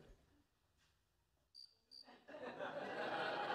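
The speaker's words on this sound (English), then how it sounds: "Sounds like a cricket." A snowy tree cricket in a sitcom scene gives two short, high, clear chirps in quick succession. Studio audience laughter then swells and continues.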